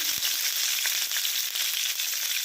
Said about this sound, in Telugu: పోపులు అయితే వేసుకున్నాం ఎండుమిర్చి ఆవాలు జీలకర్ర పచ్చనపప్పు మినపప్పు అవి అయితే వేసుకున్నాను